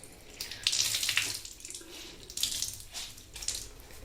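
Tap water runs into a sink to wet a clean washcloth, splashing in uneven surges that rise and fall over a few seconds, close by with no voices.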